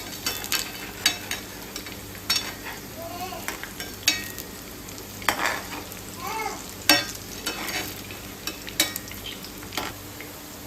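Taro-leaf alu vadi slices shallow fry in a pan of oil and are turned gently, giving a bubbling sizzle under repeated clicking spatula taps, with a few faint voice-like chirps in the background.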